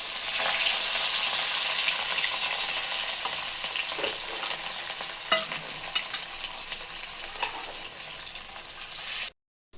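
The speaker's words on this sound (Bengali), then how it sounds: "এখন মাছটা ভাজি, মশলা মাখাই নিছি।" Spice-coated fish fries in a pan, a loud, steady sizzle close up with occasional stirring scrapes, ending abruptly.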